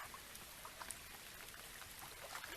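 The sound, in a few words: rain falling on a lake in video game Real VR Fishing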